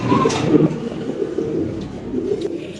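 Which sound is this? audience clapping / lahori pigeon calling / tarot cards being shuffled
lahori pigeon calling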